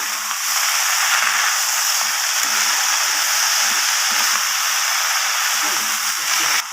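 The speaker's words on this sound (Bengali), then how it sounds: "এরপর শাকগুলোকে আমি ভালোভাবে নাড়াচাড়া করে এইভাবে ভেজে নেব" Mixed leafy greens (shak) fry in a pan, giving a loud, continuous broadband sizzle with a steady hiss and faint scraping as they are stirred.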